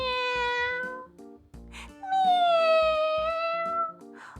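A person imitates a cat's meow in a Catalan children's tale about the little mouse who swept the stairs, giving two long drawn-out meows separated by a short pause over a rhythmic musical backing.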